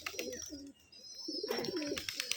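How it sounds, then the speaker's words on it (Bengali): Pigeons coo on a rooftop loft at a Rajshahi giribaz pigeon farm, soft throaty coos in two close bursts separated by a short pause, with faint chirps above them. "এই যে এখানে আরেকটা আলগা কবুতর আসছে।"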